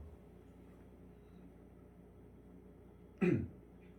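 A single short cough or throat clear near the end, fairly close and abrupt against a quiet room with low background hum.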